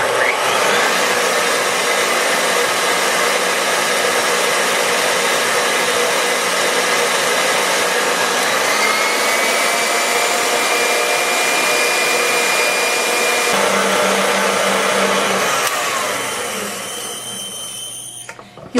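An electric mixer beats egg whites and sugar for meringue, giving a loud, constant high-speed whine that drones on close to the mic and shifts slightly in pitch before winding down at the end.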